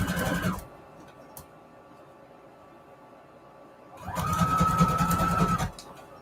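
Sewing machine stitching a long, wide zigzag on paper snippets for a book roll: a brief whirring burst at the start, a quiet pause, then a second steady run of rapid stitching near the end, close by.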